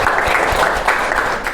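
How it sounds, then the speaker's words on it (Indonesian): A classroom of students claps together in a short, dense burst of applause, loud and close, with no talk over it. "Betul, beri tepuk tangan ya."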